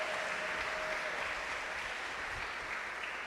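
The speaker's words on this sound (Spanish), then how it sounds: "Dale fuerte ese aplauso a papá." Church congregation applauding during a Spanish-language sermon, a dense, steady wash of clapping that holds at an even level from start to finish.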